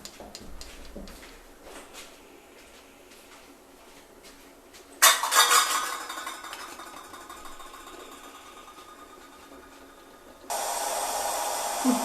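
A lid clatters onto a puttu steamer filled with tapioca puttu, a sharp metallic knock and rattle, followed by a steady hiss of steam that rises to a loud, constant rush near the end.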